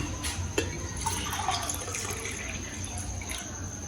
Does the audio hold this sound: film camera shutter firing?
no